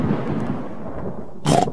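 A cartoon storm's thunder rumbles low and steady, then a brief, louder crack near the end, with no talk over it.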